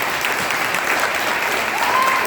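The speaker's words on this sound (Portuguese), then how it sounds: "Bota palmas para Jesus." A church congregation claps steadily in praise during a Portuguese-language mission service, a dense continuous wash of hands filling the room for a couple of seconds.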